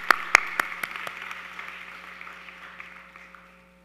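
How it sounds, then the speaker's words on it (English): Graduates at a school graduation ceremony clap for their families, a short burst of applause that starts with a few sharp claps and fades away to quiet within a few seconds. "Graduates, please give your family members and friends a round of applause to thank them for all they have done"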